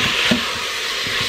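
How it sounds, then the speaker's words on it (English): Beef browning with fajita seasoning in an Instant Pot, a dense continuous sizzle heard up close with faint low knocks underneath, loud and steady throughout. "I'm just going to brown the beef so that it's all cooked on the outside"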